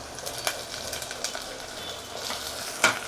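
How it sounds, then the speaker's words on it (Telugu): Fenugreek leaves dropped into a pan of frying onions give a steady, fairly soft sizzle with small crackles and one sharper pop near the end, no talking. "ఉల్లిగడ్డలు వేగినాయి, మెంతం కూర వేసేస్తున్నా."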